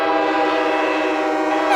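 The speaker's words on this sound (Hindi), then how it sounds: "वहाँ पर देखो, एक बड़ा जहाज जा रहा है। हाँ? वाह, इसकी आवाज बिल्कुल हमारी सीटी जैसी है।" A big ship in a cartoon sounds its horn with a long, steady, loud tonal blast that holds unbroken for nearly two seconds, alone without talk.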